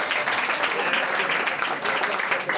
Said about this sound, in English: Everybody give Stephanie a round of applause.